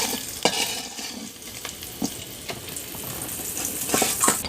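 Dried fish, fried until brown, being lifted out of hot oil in a pan, with steady sizzling and frying crackle broken by a few sharp utensil clicks and scrapes.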